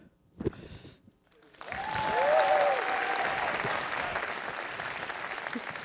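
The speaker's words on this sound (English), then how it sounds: "Whenever they come in, applaud wildly." Audience at a general officers' event bursts into wild practice applause after a brief sparse opening, building to sustained crowd clapping with a faint voice or whistle rising above it.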